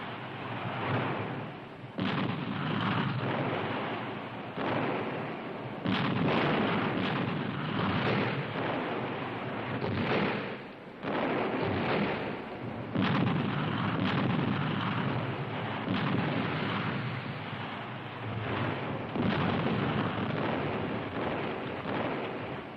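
Russian artillery fire and explosions in a World War II city battle: a continuous heavy, muffled barrage of booming blasts and rumbling roars in repeated waves, loud and distant-sounding, with no speech.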